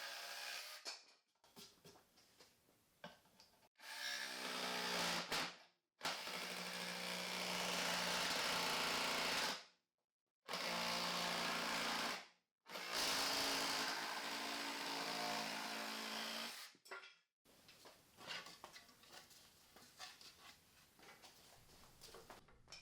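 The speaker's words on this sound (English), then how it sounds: "used my cordless jigsaw to cut out the handle" A cordless jigsaw buzzes through a wooden charcuterie board as the handle is cut out, running in several loud, sustained bursts separated by short pauses, with quieter clicks and handling noise at the start and end.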